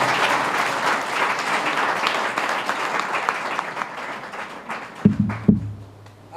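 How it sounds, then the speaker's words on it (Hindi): Indoor audience at a nursing training centre breaks into sustained, dense applause that gradually thins out, ending in a few last isolated claps. "इनके लिए जितनी ताली बजाई जाए उतनी कम है।"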